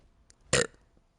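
One short, sharp burp sounds close and fairly loud, alone in an otherwise quiet moment.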